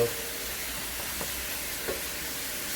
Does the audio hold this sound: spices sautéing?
yes